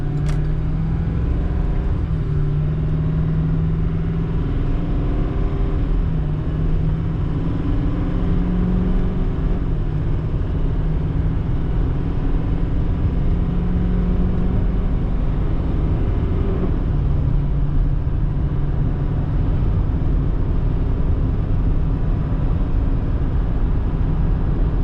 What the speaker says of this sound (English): Let's hear this Duramax get up to highway speed.